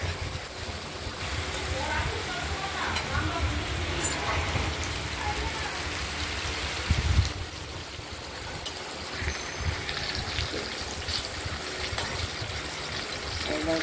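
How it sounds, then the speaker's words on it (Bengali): Ash gourd slices stuffed with poppy seed paste frying in a pan, a dense steady crackling sizzle like rain, close by, with a voice talking over it at times. "ভাজাটা চাল কুমড়োটাও ভাজা হবে, আর তার সঙ্গে যে পোস্তটা দেওয়া হয়েছে এটা গরমে একটু সেদ্ধ হবে ভাজার সঙ্গে"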